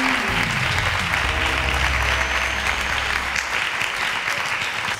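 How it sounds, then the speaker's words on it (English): Sustained applause from a quiz-show studio audience celebrating a contestant, dense and steady throughout with a low musical drone underneath, no voices. "A round of applause for"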